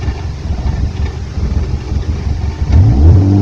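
A Hyundai Accent with an idle air control valve fault runs near the microphone, its engine note rising as it takes gas toward the end after a steady, wind-buffeted rumble.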